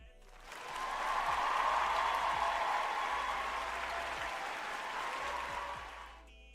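A crowd applauding at an awards event, steady broadband clapping that swells in after a moment, holds for several seconds, then fades away, with no voices over it.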